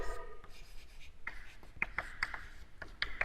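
Chalk or marker writing on a board in a maths lecture room: faint scratches and several sharp taps and squeaks in an irregular rhythm, quiet and close, with a short voice at the start.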